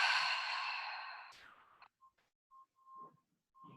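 Deep exhale during yoga breathing, a long loud breath out that fades over about a second and a half, followed by a few faint short sounds and quiet.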